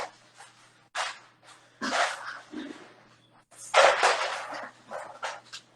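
Several pet dogs barking in bursts inside a home, loud and close, with short yips between the barks and no talk over them.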